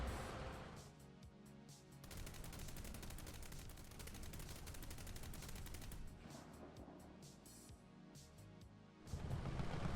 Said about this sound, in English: you also have a coaxially mounted rifle caliber machine gun